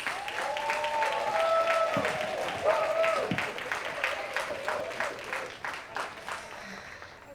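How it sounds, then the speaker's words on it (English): A crowd at an awards ceremony applauds steadily and warmly for the winners, the clapping filling the room while a voice speaks over it. "give the heartiest round of applause to all our winners"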